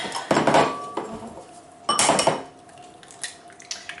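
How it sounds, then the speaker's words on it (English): Eggs cracked and beaten in a bowl for pancakes, heard as two loud clattering bursts of clinking against the bowl, each lasting about a second, followed by quieter scattered taps. "Then we're just going to crack these eggs and beat them in this bowl."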